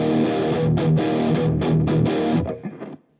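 Electric guitar runs through a Klotz Amplification distortion set loose, chugging heavy, saturated rhythm chords with short rhythmic breaks before ringing out and fading, loud and close.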